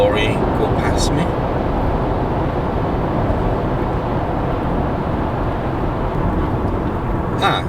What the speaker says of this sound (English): Just let this lorry go past me.